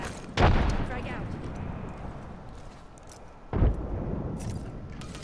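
Frag grenade explosions in Apex Legends, two heavy booms a few seconds apart, each a sharp close blast that trails into rumbling game noise while a player talks.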